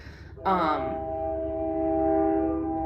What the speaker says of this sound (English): There's a train right by our house, so that's what you can hear in the background there.